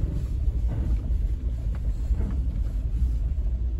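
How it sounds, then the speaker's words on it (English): Suzuki Jimny crawling downhill off road with hill descent control working, a low, uneven rumbling with soft pulsing throbs, close and steady, under wind buffeting and without speech. "you can hear that noise. The car is actually controlling our descent down this part of the section."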